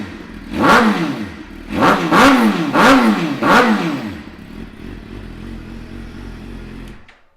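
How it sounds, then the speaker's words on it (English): A 2014 Suzuki GSX-R600 with a full exhaust system fires up close by and is blipped through four sharp revs in steady succession, then settles into a rumbling idle before cutting off. "So I'll give it a quick fire up and you can hear that full exhaust system."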